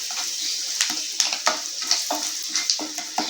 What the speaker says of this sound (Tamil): சேர்த்துட்டு லேசாக கலந்து விட்டுருங்க.